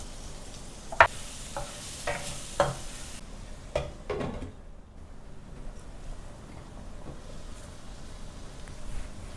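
Onion cooking in a pan with asafoetida and turmeric, giving a faint low sizzle while a spoon scrapes and stirs in several short, distinct strokes near the start.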